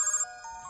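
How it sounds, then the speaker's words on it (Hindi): Phone ringtone: a short electronic melodic ring with clear bright tones, close and fairly loud, heard alone. "फोन बज रहा है, उसी का होगा।"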